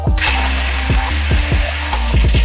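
A Kyosho MK2 Fazer 1/10 scale 3s RC car's electric motor whines close up in reverse, with repeated falling pitch sweeps over a steady low hum.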